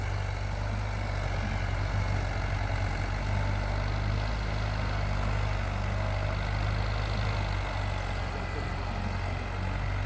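Ford farm tractor engine running steadily at idle, a constant low diesel rumble with a steady droning hum and no change in pace, heard close by outdoors with no talking.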